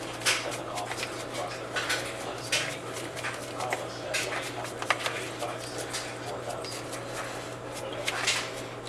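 Potato wedges tossed and mixed in a bowl to coat them, a steady close rustle with light scrapes and knocks against the bowl while a person talks.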